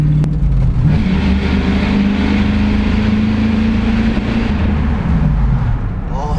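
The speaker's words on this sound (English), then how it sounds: "I don't know if you can hear it, but the exhaust is so loud." A loud Mustang GT engine roars and revs steadily while accelerating through a tunnel, its exhaust booming and echoing, with a deep rumble throughout.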